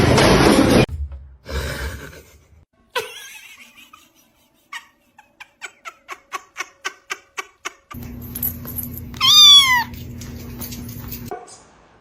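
A cat meows in a few short, rising calls near the end, following scattered thumps and a quick series of soft clicks, with a steady low hum underneath.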